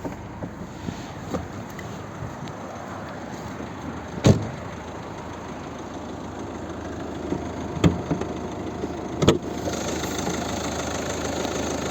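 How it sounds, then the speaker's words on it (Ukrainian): A Volvo V50 1.6 HDi diesel from 2010 idles steadily, a continuous mid-level engine drone heard up close with a few brief knocks and clicks over it and no voices. "Тепер підемо подивимося, як працює двигун."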